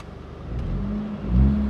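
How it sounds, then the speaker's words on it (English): A Mercedes-Benz CLA 45 AMG engine revs up from a steady idle, the low rumble swelling louder near the end before settling back slightly. "I'll rev the car."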